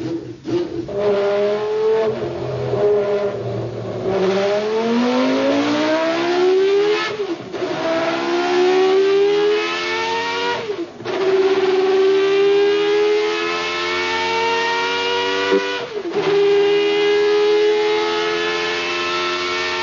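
A racing engine on a modern engine test bench rated to 1000 kW runs at full throttle, its loud tone sweeping upward through repeated simulated gear shifts, then easing off under braking, with no talk over it.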